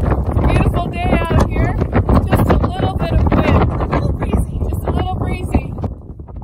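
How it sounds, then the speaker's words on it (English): Wind gusts rumble and buffet the microphone out at Rabbit Lake, Alaska, in a loud, uneven roar under a person talking throughout. "It does get a little windy out here."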